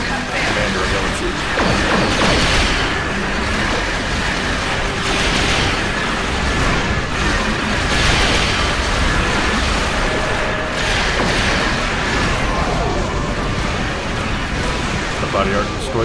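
Borg generator and cube exploding in Star Trek Online space combat: continuous loud roaring, crashing blasts and mechanical noise run throughout, with a voice talking over it.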